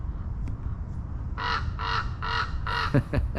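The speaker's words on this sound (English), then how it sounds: "There's a crow up on the ledge up there." A crow caws from a ledge in a cemetery, four evenly spaced harsh calls at moderate distance over quiet outdoor ambience, followed by a brief rustle.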